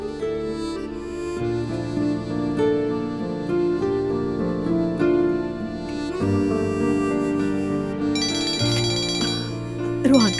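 A mobile phone ringtone plays a bright melodic tune with sustained electronic tones, loud and continuous for about ten seconds as Rohan calls, with no talking over it.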